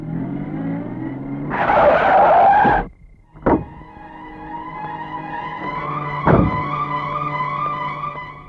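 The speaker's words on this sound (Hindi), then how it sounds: "गाड़ी क्यों रोक दी?" A car brakes hard with a loud tire screech and skid on a road, cutting off abruptly, followed by a short thump and then an idling engine hum with another brief sharp noise.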